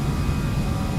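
Airbus jet engines in a flight simulator spool toward takeoff thrust on the runway, a steady, dense low roar that holds even and loud through one unbroken second with no voices.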